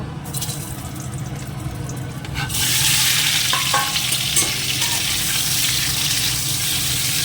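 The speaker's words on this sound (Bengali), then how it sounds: "কড়াইতে তেল দিয়ে দিয়েছি তো এবার আলুগুলো আগে একটু ভেজে নেব" Peeled potatoes frying in oil in a wok, a steady close sizzle that swells louder partway through and holds at full strength, with faint stirring clatter and no voices.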